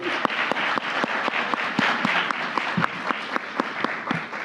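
Applause from an audience at a Spanish-language conference session: a moderate crowd of individually audible claps, steady and fairly close, with no talk over it.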